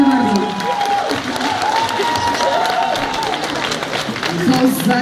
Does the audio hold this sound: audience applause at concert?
yes